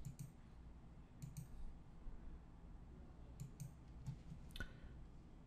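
Mouse clicks on an on-screen arrow, a handful of soft, close, double clicks spaced irregularly over quiet room tone.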